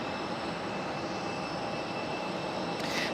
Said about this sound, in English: That is the JetBlue Mint livery, David.